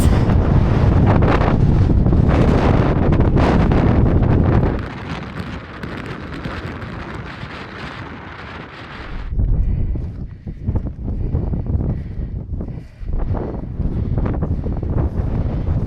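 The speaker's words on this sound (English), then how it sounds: "So hopefully you can hear this over the wind." Strong wind buffets the microphone outdoors while cycling the Cambrian Way in Wales, loud and roaring for the first five seconds, then easing into lower gusty rumbles with intermittent bursts.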